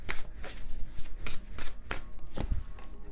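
Tarot cards shuffled by hand, a series of crisp riffling bursts and soft slaps repeating roughly every half second, close and fairly quiet with no talking over them.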